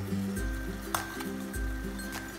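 Chole masala stirred in a pan while cooking Punjabi chole, a steady sizzle with a few light metallic clinks of the spoon against the pan, under soft background music.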